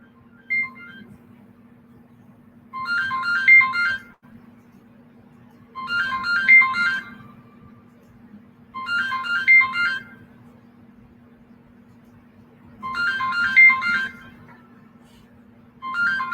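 A phone ringtone sounds for an incoming call, a bright electronic melody repeating in five evenly spaced bursts about every three seconds, loud and close over a low steady hum.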